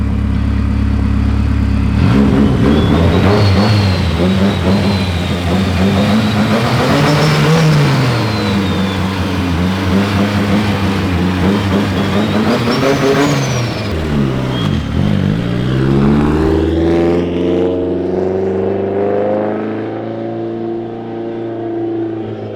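A fully built Nissan 180SX with an SR S13 engine pulls away and accelerates hard, revs climbing through several gears with a gear-change dip, loud and close, then the engine note settles and drops away near the end.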